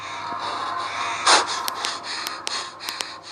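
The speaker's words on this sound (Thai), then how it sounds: "โอ้ย หายใจแรงขนาดนั้นเลยเหรอ" A character in a zombie video game breathes heavily, with a sharp loud gasp in the middle and several short puffs after it, heard over a steady hum.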